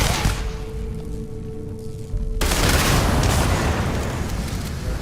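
A grenade blast in the video game Starfield erupts into a loud, roaring burst of explosions and gunfire partway through, after a quieter stretch of tonal game sound.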